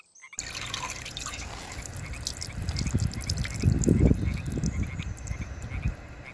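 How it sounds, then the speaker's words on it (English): Muddy toy frogs being rinsed, with soft water trickling and dripping and splashing that builds steadily toward the middle and stays fairly close, no talking over it. "Let's get them washed."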